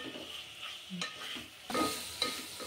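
Goat tripe (boti) frying in oil with ginger and garlic, giving a quiet sizzle with a few scraping stirs of a spoon in the pan, heard without any talk.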